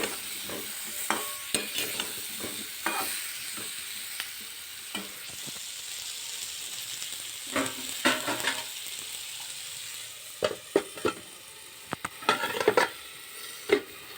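Kohlrabi curry fries and is stirred in a pan, with a steady soft sizzle broken by repeated scraping stir strokes that come in clusters, growing busier near the end.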